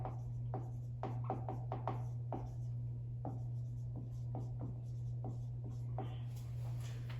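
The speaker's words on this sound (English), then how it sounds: "So I'm gonna write that out here." Someone writes out an elimination-method math problem on a board, a series of short scratchy strokes and taps at an irregular pace over a low steady hum, faint and close.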